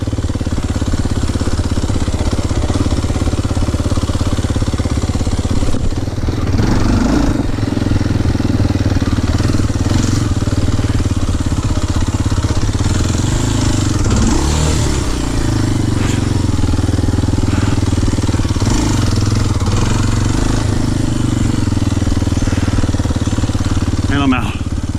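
Kawasaki KLX 230 dirt bike riding on local trails, its engine droning steadily and loudly throughout with rising and falling revs, close to the rider.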